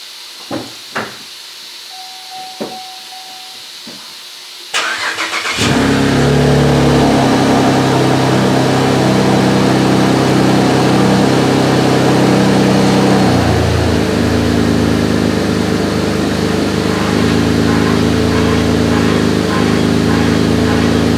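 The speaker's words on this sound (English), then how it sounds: "It needs a flex pipe, so it's going to be a little bit loud when it first starts up and while it's running." A 2011 Saab 9-4x engine needing a flex pipe cranks and starts after a few faint clicks, then runs with a loud, steady, raspy roar and hiss that fills the space up close, with the note dropping slightly partway through.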